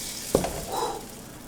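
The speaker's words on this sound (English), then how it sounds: "You hear that sizzle?" A soft sizzle of bread frying in a pan follows a brief clatter, hissing quietly for a moment.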